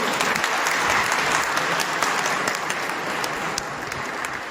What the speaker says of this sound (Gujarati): એમની મહેનત માટે એકવાર તાળીઓ થઈ છે